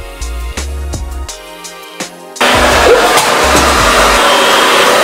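A handheld blow dryer drying curly hair. It starts with a few short bursts, then switches to a loud, continuous, close-up roar of airflow, with no talking.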